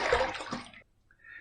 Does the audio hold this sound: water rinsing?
yes